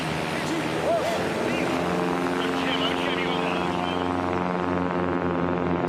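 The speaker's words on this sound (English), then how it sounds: "Big aircraft versus a light aircraft. The big, heavy Cessna 180 with the P-Pump engine." Light aircraft engines, including a heavy Cessna 180 with an O-470, roar up at the start of a STOL drag race heat, propeller drone with rising and shifting pitch under ongoing commentary.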